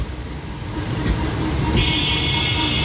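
Down Bagh Express passenger train, also called the Howrah Kathgodam Express, running on rails after leaving Bandel Junction toward Howrah: a loud, close, continuous rumble with rail clatter and a hiss that rises near the end, no talk.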